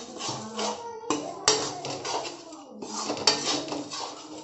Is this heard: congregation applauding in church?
no